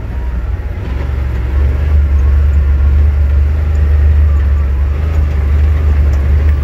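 A truck's engine drones steadily with cab rumble and road noise while driving downhill in high range, a loud continuous low hum filling the cab without a break.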